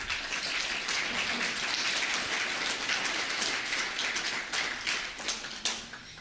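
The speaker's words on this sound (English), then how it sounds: "I'll pass on that you applauded them." An audience at a wildfire community meeting gives dense, steady applause at moderate distance, sustained for several seconds before thinning near the end.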